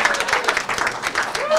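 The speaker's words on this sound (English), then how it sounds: "Oh, you want to clap too?" Audience clapping at a ribbon cutting for a local business, a short burst of steady applause from a gathered crowd with voices mixed in.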